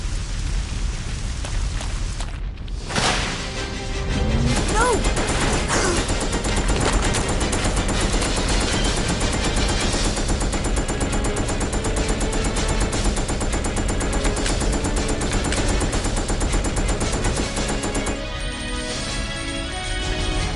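Sustained automatic gunfire fills a Resident Evil Code Veronica X scene, loud and dense with rapid repeated shots over roughly fifteen seconds after a brief pause near the start, with no talk.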